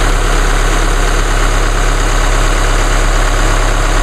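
A 2016 Chevrolet Colorado with the GM Duramax diesel idles after a cold start, a loud, steady close-up engine drone with constant low rumble and clatter and no other sounds.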